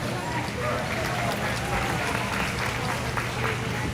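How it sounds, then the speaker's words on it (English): A crowd applauds exhibitors at a market lamb livestock show, with steady dense clapping filling the space throughout, joined by a faint voice. "Go ahead and give all these exhibitors out here a big round of applause."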